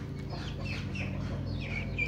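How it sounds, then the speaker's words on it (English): Chickens and young chicks clucking and cheeping together on a small farm, continuous overlapping chirps and low clucks close by, with no talk over them. "There's some chicks"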